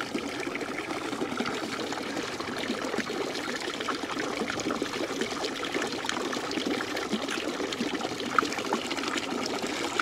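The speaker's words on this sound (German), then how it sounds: "man sieht, dass das Wasser spuckt und man sieht, wo das Wasser herkommt" Water spouts from a toad fountain, splashing and trickling steadily without a break, a close and fairly loud outdoor stream of liquid.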